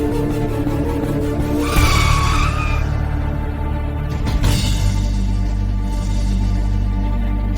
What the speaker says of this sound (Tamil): கார் நின்னு போச்சு பாத்தீங்களா?